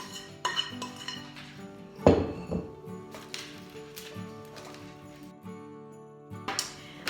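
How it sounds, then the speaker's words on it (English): Coconut and cranberry mixture is spread onto chocolate in a tin, with repeated scraping and metallic clinks of a utensil against the tin, one sharp louder knock early on, and quieter scrapes continuing close by. "I'm now going to put this mixture onto the top of the chocolate."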